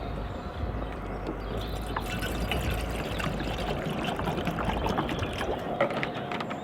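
A steady stream of water pours and trickles from a jug into a kettle for several seconds, close and continuous, with no talking.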